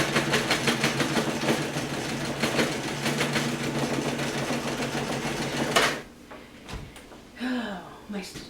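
Sewing machine running steadily in a dense motor-driven stitching drone for about six seconds, then stopping abruptly; a person speaks briefly in the quieter remainder.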